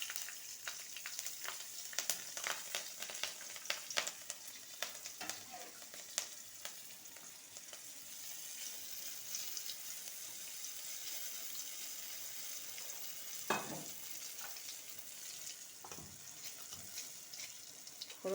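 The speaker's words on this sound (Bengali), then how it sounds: "ফোড়ন ভাজা হয়ে গেছে," A tempering of black cumin and green chilli fries in hot oil, giving a steady, fairly faint sizzle with scattered crackles and pops and a brief louder spatter midway, with no talk.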